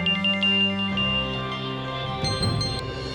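Ringback tone of an outgoing phone call, repeating steady tones in a quiet indoor room, with a brief chiming burst toward the end and no voices.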